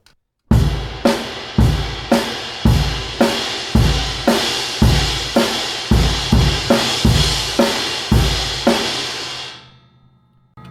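Drum kit pattern of about a dozen loud, evenly spaced crash cymbal hits, each struck together with the bass drum or snare, ringing out and fading at the end, played alone.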